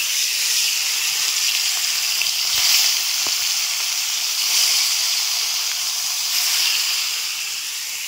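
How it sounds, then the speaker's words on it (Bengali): Rohu fish frying in hot oil, a continuous, fairly loud hiss of sizzling with gentle swells and no voices. "আমার তেলটা গরম হয়ে গেছে, এবার মাছগুলো আমি ভেজে নেব।"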